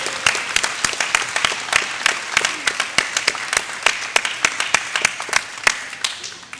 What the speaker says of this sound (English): Graduates, let's applaud their effort and support of you.